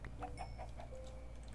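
A chicken in Minecraft clucks in a run of four or five short, soft clucks over a low steady background, heard near but faint, with no talking.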